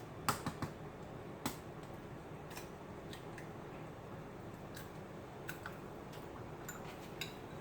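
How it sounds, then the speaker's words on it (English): A fork stirs a raw egg into grated Parmesan and Romano cheese in a bowl, giving faint, scattered clicks and taps of metal against the bowl over a quiet background. "I'm stirring this egg all into the grated cheese here"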